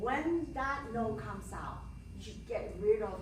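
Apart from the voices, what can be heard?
No everyday noise stands out behind the speech.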